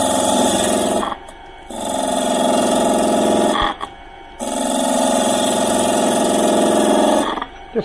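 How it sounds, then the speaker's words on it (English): A spindle gouge rounds over the top of a workpiece on a wood lathe, making a loud, rough, hissing scrape in three long passes separated by short pauses where only the motor hum remains. "we're going to revert back to the standard spindle gouge again and just round this on the top"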